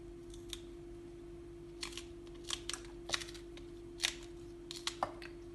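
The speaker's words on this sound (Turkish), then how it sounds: "Doğramaya devam ediyorum." Sharp knife strikes on a cutting board as peppers are chopped for pickles, irregular and spaced out, fairly quiet against a steady low hum.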